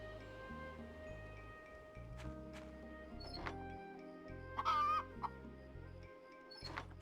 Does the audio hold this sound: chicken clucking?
yes